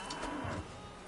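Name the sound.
cow mooing in the video game Witcher 3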